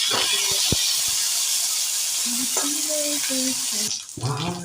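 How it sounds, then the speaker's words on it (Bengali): Cauliflower florets lightly frying in a pan for veg dal, a continuous bright sizzle with a few clinks and scrapes of stirring, easing off near the end while faint voices come through. "প্রথমে ফুলকপিগুলোকে হালকা হালকা ভেজে নেব, হালকা হালকা ফ্রাই করে নেব।"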